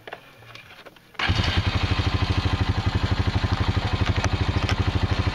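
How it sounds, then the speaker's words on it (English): A four-wheeler ATV engine at an off-grid winter homestead, quiet at first, then firing up and settling into a steady, close, loud chugging idle with a rapid even pulse. "But I like to start the four-wheeler and run it because the battery's not real big on that four-wheeler."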